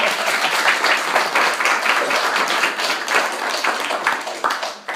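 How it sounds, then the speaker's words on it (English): A radio vaudeville studio audience breaks into loud, dense applause, many hands clapping in a continuous rush that stays strong to the end. "Now you can applaud."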